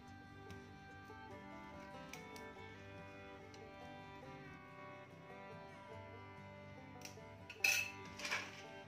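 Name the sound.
steel spoon stirring thickened jaggery in a pan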